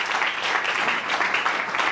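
A church congregation acclaims the Lord with a short burst of dense, steady clapping, moderately loud and evenly textured throughout.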